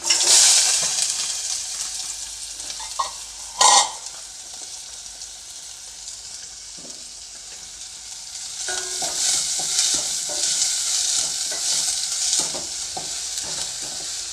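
Chopped onions sizzle in hot oil in a pan for pasta, a continuous frying hiss with an early loud clatter and intermittent stirring scrapes throughout, close and fairly loud, no speech.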